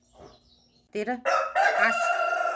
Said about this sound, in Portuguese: Ai, galo safado! Vai cantar lá no fundo!